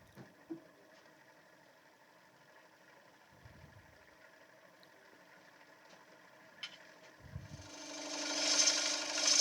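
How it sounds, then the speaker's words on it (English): A bowl gouge is sharpened on a Sorby Pro Edge belt sharpener: a quiet machine hum with a few light scrapes, then a rising abrasive grinding hiss near the end. "Just sharpening up the bowl gouge. Got a Pro Edge, Sorby Pro Edge sharpener"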